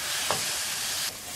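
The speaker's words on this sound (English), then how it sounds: "that needs to fry and caramelize for about 4 or 5 minutes" Onion and spices frying and caramelizing in a pan for a restaurant-style vindaloo, a steady close hiss of sizzling oil with one brief louder spit partway through.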